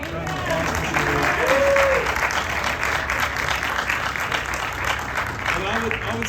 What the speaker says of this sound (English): can we just have a special round of applause for Sherry?